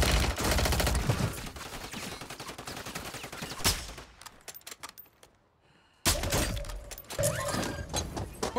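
Rapid, loud bursts of automatic gunfire in Warzone 3, sustained close shooting with sharp cracks, a brief quieter gap, then another burst of shots.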